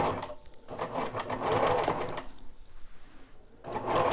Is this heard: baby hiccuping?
no